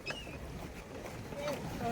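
Gentle water sloshing and lapping around a small pedal boat, with soft wind noise and faint background voices.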